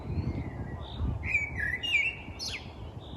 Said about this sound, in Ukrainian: Дуже багато соловей.